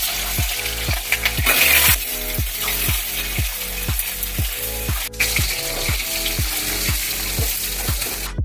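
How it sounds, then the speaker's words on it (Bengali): Boiled potatoes fry in hot mustard oil in a kadai, a loud steady sizzle broken by rhythmic, evenly spaced scraping stirs, around twenty strokes close up with no voices. "আলুটা প্রায় ভাজা হয়ে গেছে,"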